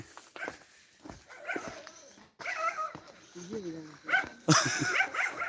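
A dog barks and yelps close by in short bursts, with whimpering notes between, while people talk over it.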